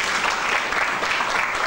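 Steady audience applause at a live event in Joinville, Brazil, in 1996, a dense wash of many hands clapping at once, sustained and fairly loud throughout.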